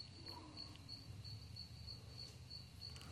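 Steady insect chirring hums faintly in the background, a continuous high trill with regular pulses and no voices.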